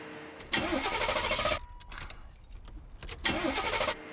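A Concorde jet engine spools up in two loud bursts of rushing, whining roar separated by a quieter lull, close by.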